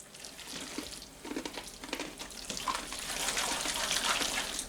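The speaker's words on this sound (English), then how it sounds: "I'm just going to stir it into this pasta. Kind of stir aggressively." Egg sauce stirred aggressively into pasta, producing wet, sloshing, squelching strokes in quick succession, close and fairly quiet, growing denser toward the end.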